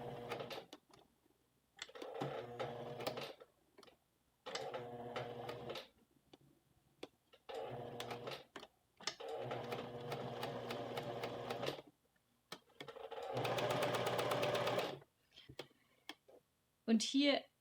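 A sewing machine stitches a shirt collar on a western blouse in bursts of rapid mechanical whirring, starting and stopping repeatedly with short pauses between runs, with talk in the quieter gaps.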